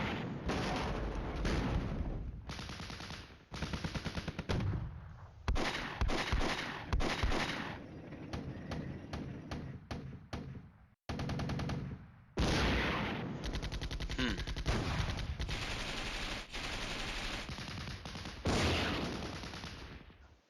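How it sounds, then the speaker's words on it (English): Sustained gunfire and artillery bursts from the Flashpoint Campaigns: Red Storm war game, including 155 artillery, in dense repeated volleys with a short gap midway, loud and continuous. "They got their one little 155 shooting at their artillery."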